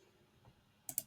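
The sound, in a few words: mouse click on save draft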